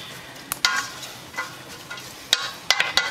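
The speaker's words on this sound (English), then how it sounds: "You're just going to stir that around" Spaghetti sauce ingredients cooking in a pan, with a quiet steady sizzle broken by sharp scrapes and taps of a spoon stirring, several clustered near the end.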